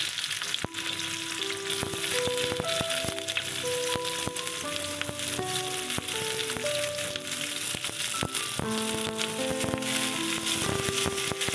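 Onions frying in hot oil for a papaya Manchurian dish give a steady, close, bright sizzle with scattered crackles and pops throughout, no talking.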